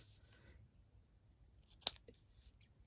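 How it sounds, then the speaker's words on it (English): Scissors trim sticky tearing tape in a quiet room: one soft, close snip with a short follow-up rustle stands out faintly against near silence, with no talking. "So I'm going to trim that down. I have a pair of scissors"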